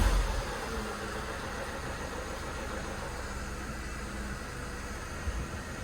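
A Mercedes W203 car engine idles steadily while the automatic gearbox is shifted through its positions, a low, even hum with a faint hiss and no distinct shift sounds.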